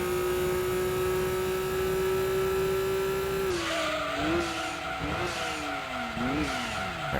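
Racing car in Gran Turismo 2 holding a steady high turbo whine, then the pitch dips and climbs repeatedly as it brakes and accelerates, with tyre squeal mixed in, loud and continuous.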